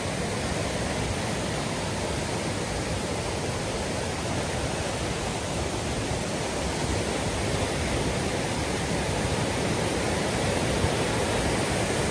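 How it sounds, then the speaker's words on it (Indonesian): Coban Rondo waterfall in East Java sprays down in the rain, giving a loud, dense and unbroken hissing roar that fills everything evenly, with no voices. "Ini kondisi hujan, terus cipratan dari atas."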